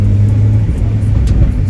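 A Vauxhall Corsa's four-cylinder engine idles loudly close up while misfiring on one or two cylinders, giving a low, uneven rumble with slight irregular pulses throughout.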